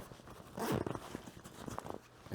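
Zipper on a backpack carried for getting home on foot in an emergency, pulled open in a short, quiet rasping burst close by, followed by faint rustling of fabric and gear.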